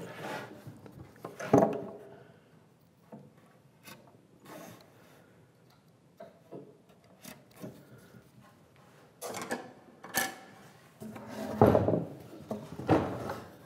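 Recessing a wooden workbench by hand with router, chisel and mallet, with scattered sharp knocks and scraping wood strokes, louder toward the end, separated by quiet pauses.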